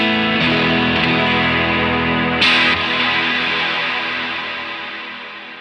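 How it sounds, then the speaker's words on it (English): An electric guitar runs through Strymon DD500 delay and Big Sky reverb pedals, a loud, dense distorted wash of sustained chords with a swirling modulated reverb tail, a brief bright swell midway, then a slow fade. "go to a big swirly reverb sound, maybe a little bit of modulation"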